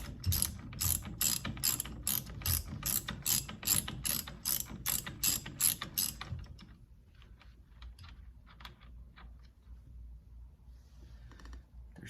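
A ratchet wrench loosening the steering wheel nut on a 1931 Ford Model A, rapid even clicking for about six seconds, then stopping, followed by scattered faint metallic taps and handling noises.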